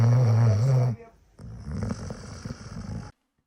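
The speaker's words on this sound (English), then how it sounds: "Maya is snoring at my feet." A dog snores close by at someone's feet, with one loud, rumbling snore followed by softer, breathy snuffling that then cuts off.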